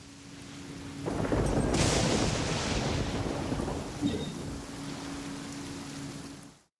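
Rain in the video game Genshin Impact, a loud, steady wash of falling rain that swells after a second, with a low storm rumble beneath and a faint hum, then fades and cuts out.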